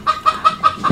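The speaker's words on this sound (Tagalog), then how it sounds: "Bugayan mo nga po yung manok." A chicken clucking five times in a quick even rhythm, close and clear, with no talk.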